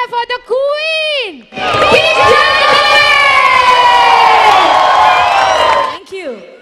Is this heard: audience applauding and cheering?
yes